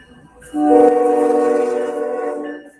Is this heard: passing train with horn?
yes